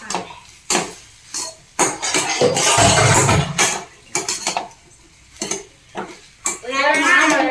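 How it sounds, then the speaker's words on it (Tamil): A spoon stirs tomato rice in a metal pot, with irregular bursts of scraping and clattering against the pot close up, separated by brief quiet gaps. "இப்ப நல்லா அதை கிண்டி விட்டுறலாம்."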